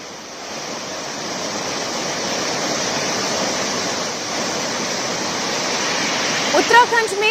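The swollen Tamsa river rushes after heavy rain in a loud, continuous roar of churning water that holds steady throughout, with a few faint sharp sounds near the end.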